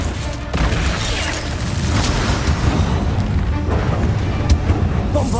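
A Confringo fire spell explodes in Hogwarts Legacy with a loud, deep boom, followed by crackling rumble and further blasts. Everything comes through as dense, sustained combat noise.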